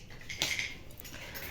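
A fork clinks briefly and faintly against a plate while someone eats pizza at home at night, a single light metallic tap in a quiet room.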